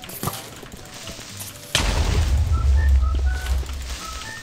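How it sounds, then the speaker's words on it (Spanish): A creeper explodes in Minecraft, a sudden loud blast that then rumbles on for a couple of seconds, after a quieter stretch of game noise. "No sé por qué me protejo cuando ya he escuchado la explosión."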